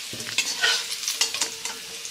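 Fried potatoes and chicken are stirred together in a pan for homestyle chicken biryani, with continuous sizzling and repeated scraping of the spoon, close and steady without any talk.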